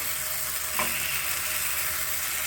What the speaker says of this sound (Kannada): ಇವಾಗ ಕಲ್ಲು ಕಾದಿದೆ ನಂತರ ನಾವು ಮಾಡ್ಕೊಂಡಿರುವಂಥ ಹಿಟ್ಟನ್ನು ಸೌಟಲ್ಲಿ ತಗೊಂಡು ಈ ರೀತಿ ಸ್ವಲ್ಪ ಸ್ವಲ್ಪನೇ